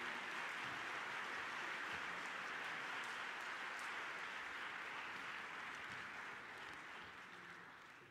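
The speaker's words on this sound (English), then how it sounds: "how about a big round of applause for Mr." Applause from the audience at a Developmental Disabilities Awareness Month kickoff event, a soft, distant, even wash of many hands clapping that holds steady and then slowly fades toward the end.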